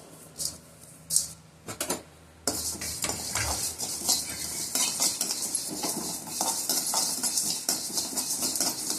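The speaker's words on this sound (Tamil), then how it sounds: "சோம்பு லேசாக வரப்பட்டால் போதும், ரொம்ப வறுக்கணுன்ற அவசியம் இல்லை." Fennel seeds are dry-roasted in a pan and stirred with a utensil, making a continuous scraping and rattling with metallic clinks and a faint crackle, close and alone after a few sparse clatters at the start.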